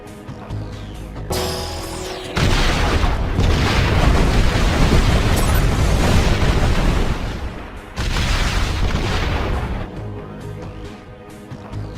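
Generators explode in an animated Ben 10 Omniverse scene, with booming blasts and a long rumbling roar of explosions under a music score. The sound is loud, swells twice and then fades.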